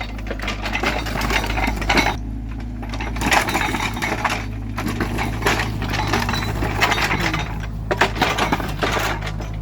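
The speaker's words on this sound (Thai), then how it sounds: "การทำงานใช้เครื่องจักรทันสมัยเจาะรวดเร็วแป่บเดียว" Loud, continuous mechanical grinding and rattling with a heavy low hum from machinery drilling into a road, close by and steady throughout.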